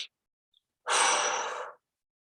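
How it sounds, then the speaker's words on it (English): A single deep breath during a slow guided breathing exercise, one long airy inhale or exhale lasting about a second, close and clear in an otherwise quiet room. "I'm taking a deep breath into my heart, and then I'm taking another one to my stomach"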